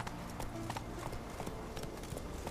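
Horse hooves clip-clop in a quick, steady rhythm as a horse runs in The Witcher 3: Wild Hunt video game, close and continuous throughout the short stretch.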